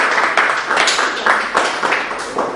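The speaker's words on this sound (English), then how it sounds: "Nice round of applause." A crowd of audience members applauds at a financial presentation, giving close, dense clapping that surges and eases in waves over a couple of seconds, with no talk over it.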